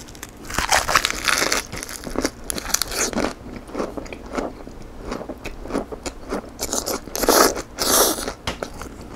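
Crisp, repeated crunching bites and wet chewing of a pork belly lettuce wrap with garlic and kimchi, close up and rhythmic, with no talking.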